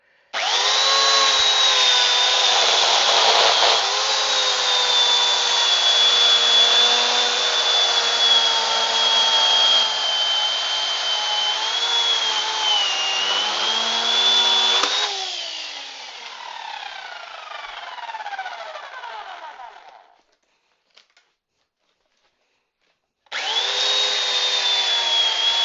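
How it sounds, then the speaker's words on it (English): A small electric chainsaw cuts into a walnut log in a woodturning shop, a loud steady high-pitched whine that runs for about fifteen seconds, then winds down and stops, and after a brief silence starts up again. "we have to use this little electric chainsaw for this."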